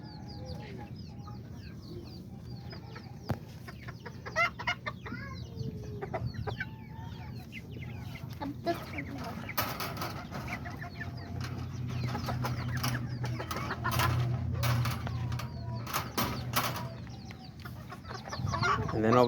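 Roosters and chickens cluck at a backyard flock, scattered soft clucks over a low steady background hum and occasional clattering, with some faint talk.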